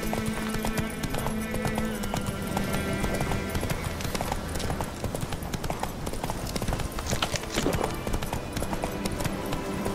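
Rhythmic clip-clop of horse hooves galloping in The Witcher 3, steady and close throughout, layered over a dense game soundtrack with an occasional faint whinny.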